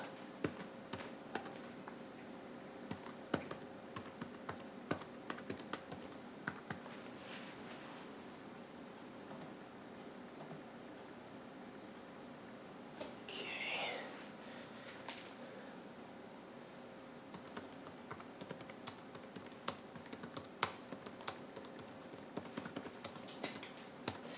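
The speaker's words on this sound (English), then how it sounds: "Go ahead and type a password." Keystrokes tapping on a Mid-2007 MacBook Pro keyboard while a password is entered, a steady run of light, close clicks with brief pauses over a faint background hum.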